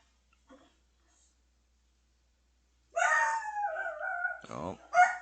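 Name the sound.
dogs barking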